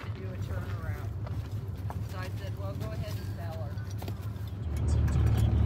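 Foals are unloaded from a trailer, hooves clopping and thudding on the trailer floor amid rattles and a vehicle engine rumbling louder toward the end, with people talking over it.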